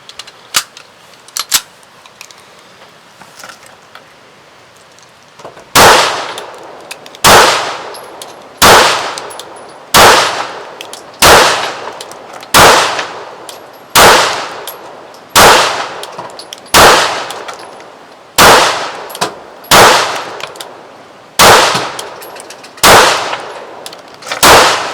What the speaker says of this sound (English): You're going to shoot this thing, Cody Muse, and tell me what you think.